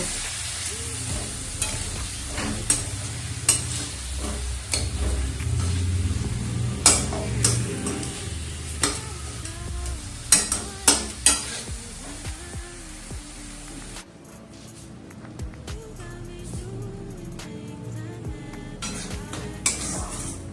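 Cumin and coriander powder mix sautés in oil in a pan for an aloo dum with fenugreek leaves, a steady sizzle punctuated by repeated sharp spatula scrapes and knocks against the metal pan, quieting somewhat in the latter half.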